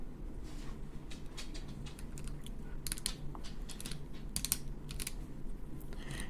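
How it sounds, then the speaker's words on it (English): The top screw of a Ruger GP100 revolver is turned out with a screwdriver, giving small close clicks and ratcheting ticks in irregular bursts over a quiet room hiss, with no talking. "we are going to undo this screw at the top here"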